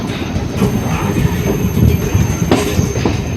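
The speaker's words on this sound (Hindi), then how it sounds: "बाकी ट्रेन अपनी डिपार्ट कर रही है चूर्क रेलवे स्टेशन से।" A MEMU train pulls out of Churk railway station, its wheels squealing and rumbling on the rails with scattered clanks, loud and close throughout.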